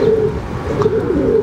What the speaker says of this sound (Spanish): Alias el Larguito, año y medio, 49 palomas cogidas a cajón